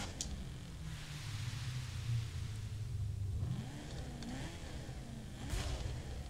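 A Camaro ZR1 in The Crew 2 rumbling at idle and then blipping the throttle a few times, with brief rising engine swells over a constant low drone. No voices are heard.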